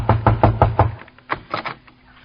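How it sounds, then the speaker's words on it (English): Knuckles rap on a door in a quick series of five firm knocks, followed by a few softer, scattered taps, sharp and close with no voices over them. "I'll knock on the door."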